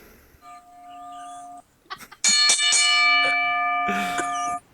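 A bell rings with sustained, ringing tones, stopping briefly, then struck again more loudly with several clustered rings that linger to the end.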